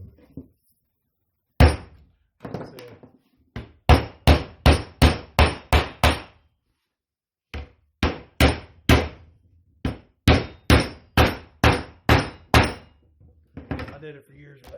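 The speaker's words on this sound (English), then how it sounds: "This is a V-nail tool." A V-nail tool drives V-nails into the corner of a homemade wooden picture frame, giving two bursts of sharp, loud, evenly spaced impacts, about seven in quick succession, then a pause and another run of about ten.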